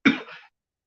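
A single short cough from a person with a cough, fairly close and moderately loud, ending quickly into silence.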